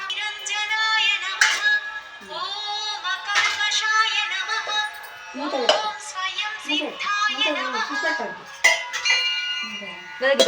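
Small metal tiffin box vessels clink and clatter close by, with ringing taps and scrapes repeating irregularly over about ten seconds.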